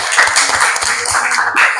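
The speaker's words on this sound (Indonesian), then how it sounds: "Mana tepuk tangannya untuk kelompok kedua." Applause for the second group at a classroom presentation, a dense steady patter of hands clapping throughout, fairly loud and close, with no talk over it.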